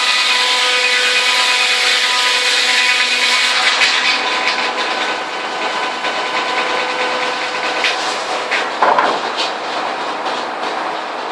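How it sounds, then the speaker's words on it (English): Large breaking-down saw at a New Zealand timber sawmill cutting through a log, a loud continuous grinding, rasping roar with shifting pitch and a brief clatter near the end, no talk. "Looking at the breaking down saw."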